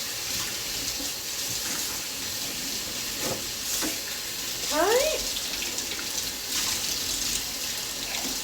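Water runs steadily from a kitchen tap while dishes are washed, with a few clinks and scrapes rising above the flowing water partway through.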